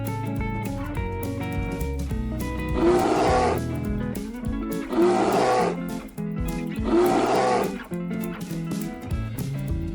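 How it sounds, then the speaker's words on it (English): A bear roars three times in loud, rough bursts of a second or so each, evenly spaced over continuous background music. "Bear."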